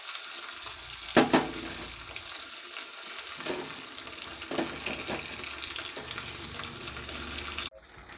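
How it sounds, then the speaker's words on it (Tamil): Leafy greens sizzle and fry in a hot pan during home cooking of a cooker rice dish, a steady loud crackle with a few stirring scrapes, ending abruptly. "இப்போ இந்த கீரை இதில் சேர்த்துக்கலாங்க"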